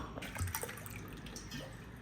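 Water splashes and trickles steadily into a pot of lentils, a soft continuous pouring sound at close range with no talking.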